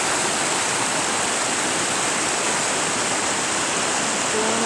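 A New Zealand river rushes over rocks in a steady, loud, broadband roar that holds unbroken throughout, with no voices.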